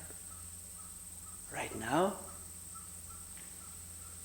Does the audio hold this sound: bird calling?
yes